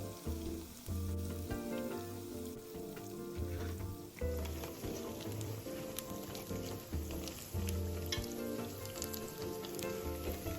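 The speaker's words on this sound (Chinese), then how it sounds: "将锅里头油沥干净，继续油炸至全部完成。" Anchovy fritters deep-fry in a wok of hot oil with a dense, crackling sizzle that runs throughout, close and steady, over a faint tonal background.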